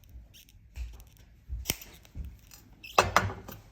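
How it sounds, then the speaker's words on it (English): Excess jewelry wire being cut with small cutters while making double coil links, a few sharp close snips separated by quiet pauses, with soft handling noises between. "Also cut the excess wire"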